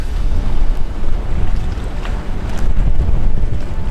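Steady, heavy wind rumbling against a microphone outdoors at the harbour on Helgoland, with a constant low roar and no voices, like gusts near open water.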